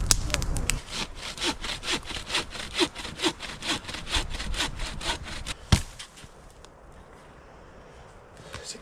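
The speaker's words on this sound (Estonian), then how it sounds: "saagin kohe" A hand saw cuts through firewood with a steady back-and-forth rhythm of rasping strokes, close and fairly loud, stopping near the end and leaving quiet outdoor ambience.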